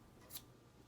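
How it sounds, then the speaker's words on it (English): A single quick snip of scissors, faint and very brief, cutting through a quiet room with no talk. "red scissors."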